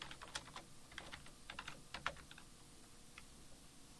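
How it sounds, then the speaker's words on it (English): Steady typing on a computer keyboard, close and fairly quiet, with quick irregular bursts of key clicks that thin out toward the end. "And I'll type in a chapter called"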